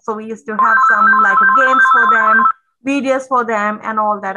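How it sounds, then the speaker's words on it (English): A telephone rings with a steady, repeating electronic ringtone beneath a person talking, cutting in and out with the pauses in speech. "I'm sorry about my phone call. It's ringing right now."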